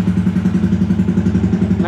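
A Yamaha Sniper 155 motorcycle engine runs close and loud at a steady rhythmic idle, with a low pulsing throb and a faint lift at the very end, and no voices over it.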